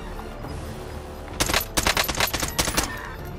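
Gunfire from a gun in Warzone rattles out as a short, loud automatic burst of about a dozen rapid shots, preceded by a quiet stretch with no talking.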